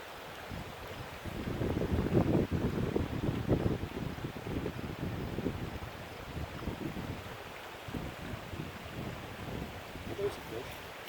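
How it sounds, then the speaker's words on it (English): Gusty wind buffets the microphone in rumbling bursts while fishing by deep water, strongest early on and easing later, with a steady outdoor hiss and no clear talk. "That wind is getting really windy."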